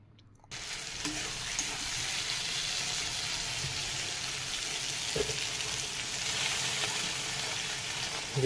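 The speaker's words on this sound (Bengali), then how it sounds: "বেগুনগুলোর মধ্যে জল দিয়ে দিলাম" Water hits eggplants frying in a pan, and a sudden burst of hissing sizzle starts after a brief silence, then holds steady and close with faint stirring sounds and no speech.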